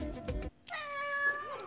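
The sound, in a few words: cat meowing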